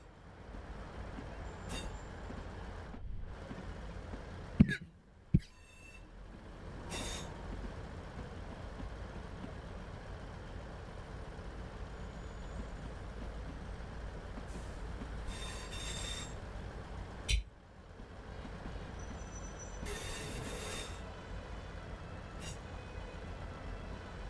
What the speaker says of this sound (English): As we crawl our way in through the complex track work. With much squealing.